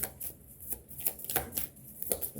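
Oracle cards dealt one after another, each landing with a crisp papery flick and slap. The soft close-up sounds come in a quick, uneven rhythm with short gaps between them.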